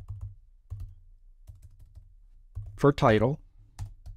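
Computer keyboard typing while drafting a blog outline, a few light clicks spread through the clip, with a voice speaking briefly partway through.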